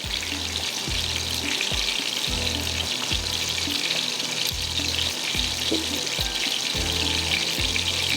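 Small chillies sizzle steadily in hot oil in a pan, a loud, continuous frying hiss with faint low rhythmic bumps underneath and no talking.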